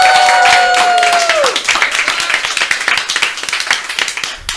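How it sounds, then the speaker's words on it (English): A small group of podcast hosts clapping at a 10-year anniversary episode, a close burst of handclaps following a fading sustained tone, sharp and uneven claps tapering off over a few seconds. "can we all get a round of applause for Saj After Art?"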